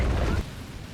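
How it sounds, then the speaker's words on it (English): Explosion in the video game Lollipop Chainsaw RePOP, a brief heavy low boom that rumbles loudly for a moment and then quickly fades into a quieter tail. "Extreme explosion."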